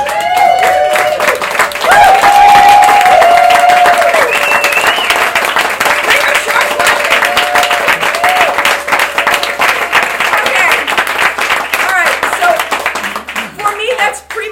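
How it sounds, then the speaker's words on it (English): A standing audience at a live music tribute show claps loudly and steadily for nearly the whole stretch, with a voice speaking and calling out over the applause before it thins out at the end. "As Suzanne would say, everybody clapping."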